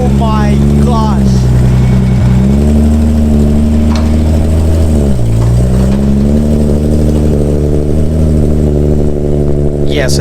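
Nissan Skyline R33 GTR fitted with a big single turbo and suffering a fuel leak, its engine loud and close, revving up twice from a steady idle with a rough, pulsing drone throughout.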